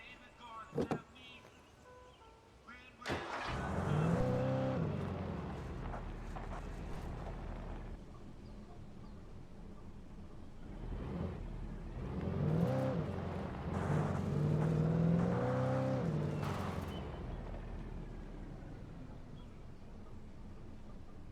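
A car's engine drones and revs while driving in Alan Wake Remastered, rising in two long swells of acceleration after a couple of sharp knocks at the start, with a voice heard faintly at times.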